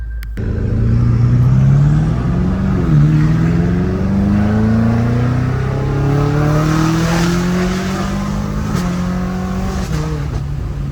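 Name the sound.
BMW M5 Competition engine revving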